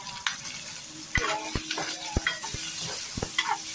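Onion, garlic and shrimp paste frying with tomato and vegetables, a soft sizzle with repeated knocks and stirring clatter from a utensil in the pan, close by.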